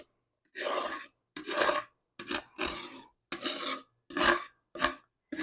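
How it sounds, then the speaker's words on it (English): A metal scraper rasps grease out of a cast iron skillet in seven separate strokes, each a short gritty scrape with a pause between. The strokes are fairly close and moderately loud, and there is no talk. "you're going to use a metal scraper and you're going to get all that grease out of there"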